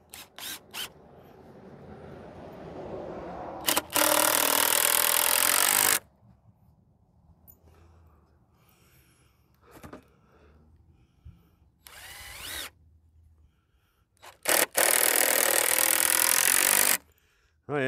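A power drill whirs in two long bursts and a few short ones, driving screws into wood braces, with quieter handling noise and faint clatter between runs.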